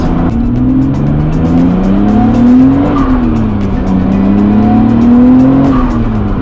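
A 2002 Nissan Skyline R34 GT-R V-Spec II Nür, a Nismo-built car, accelerating hard from inside, its engine loud and rising through the revs with shift dips and a whining drivetrain tone.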